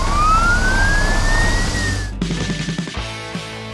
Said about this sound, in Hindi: आवाज हवा में गूंज रही है।